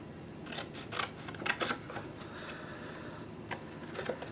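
Scissors snip around a stamped paper flower bouquet for a handmade thank-you card, giving faint, close, irregular clicks and crisp cuts over a quiet room.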